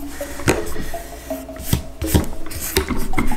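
Hands rubbing a glued decoration onto a deco mesh Halloween witch hat wreath, giving close, scratchy rasping strokes in short bursts with brief pauses, no talking.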